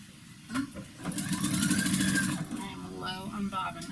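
A home sewing machine runs a stretch stitch on knit T-shirt fabric, whirring in one fast, steady burst of stitching with a voice talking over and around it.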